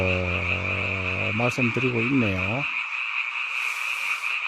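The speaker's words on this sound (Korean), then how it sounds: "개구리 우는 밤에" A dense chorus of frogs croaks steadily at night in the Korean countryside, a continuous droning mass of calls heard under a man's speech before it carries on alone.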